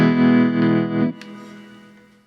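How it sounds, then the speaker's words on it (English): Boss Katana Mini X guitar amp playing a sustained, heavily processed chord that rings loud for about a second, then cuts to a softer decaying tail with a faint pick noise. "tremolo"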